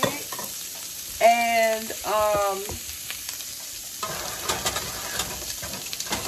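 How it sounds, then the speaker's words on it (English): Eggs with cheese are scrambled in a pan, giving a soft steady sizzle with intermittent scraping stirs close by. A voice briefly speaks, and two short tonal beeps sound near the start. "I'm going to scramble some eggs"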